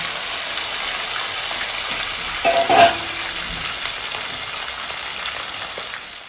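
Pieces of catla fish fry in hot oil with a loud, continuous close sizzle, broken by a short burst of clattering stirring midway. No one speaks.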